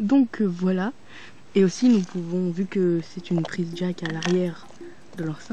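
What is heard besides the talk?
No everyday noises stand out.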